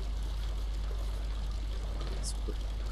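Water flowing out and pouring steadily in the video game Amnesia, a continuous trickling stream over a low hum, with a couple of brief splashy accents near the end.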